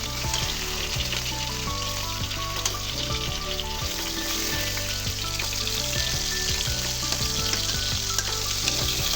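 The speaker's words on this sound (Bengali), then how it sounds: "মাছগুলো আমার ভাজা হয়ে গেছে" Small boal fish frying in oil, giving a strong, continuous sizzle with constant crackling that stays loud and close throughout.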